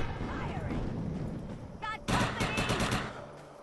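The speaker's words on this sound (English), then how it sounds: "this is a, like very fast sniper rifle" Rapid sniper rifle shots in the shooter game Defiance, a burst of sharp reports in quick succession following a quieter stretch of game ambience, fairly loud and close.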